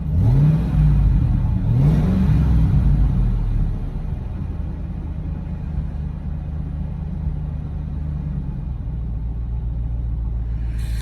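A modified Ford Lightning truck engine revs loud and close, rising and falling in a couple of quick throttle blips during the first few seconds, then settles to a steady rumbling idle.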